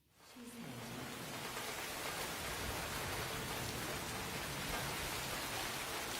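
Steady, dense rain falls in a Blade Runner 2049 scene, rising quickly at the start and then holding as an even hiss of drops on surfaces.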